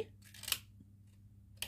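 Scissors snip through paper while a small drawer box is made by hand, giving a few short, close cuts with quiet gaps between them.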